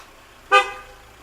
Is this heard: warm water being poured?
no